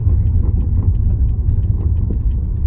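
A car on a UK road draws in and stops beside a single yellow line during a driving test in Bletchley, its steady mid-pitched engine rumble close and continuous, with no one speaking.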